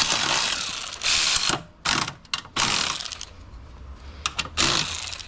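Hand ratchet clicking in quick bursts with short pauses between them while undoing bolts on the front air shock of a Mercedes CLS, close up and fairly faint.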